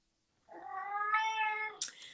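A cat lets out one drawn-out, tonal meow at close range, rising slightly in the middle, followed by a brief higher chirp at the end; nothing else is audible around it.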